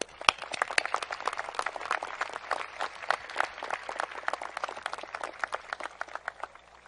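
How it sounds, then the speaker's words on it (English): Audience applause fills a high school graduation venue, steady dense clapping from many hands that holds for several seconds without voices over it. "So please join me in recognizing them with a round of applause."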